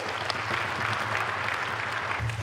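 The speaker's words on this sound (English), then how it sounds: "Please let's give him a round of applause." A steady round of applause from an inaugural lecture audience at a university, dense continuous clapping with a low background hum throughout.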